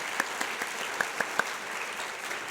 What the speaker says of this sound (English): So another round of applause for our panelists